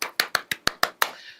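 Seven crisp, evenly spaced claps ring out for volunteers at a public event, each sharp and close, the last one trailing off with a slight room echo.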